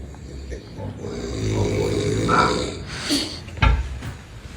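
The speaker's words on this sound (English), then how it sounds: "Homie's snore is something that I haven't heard like before." A man snores with a rough, rumbling inhale that rises and fades, followed by a sharp thump, heard close and fairly loud.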